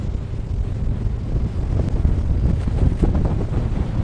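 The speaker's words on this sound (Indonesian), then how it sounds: "Luar biasa sekali ini untuk hembusan angin." Strong wind gusts roar across the microphone on a boat in rough weather on the Java Sea, a steady loud rush with rising bursts, waves and hull noise blended underneath.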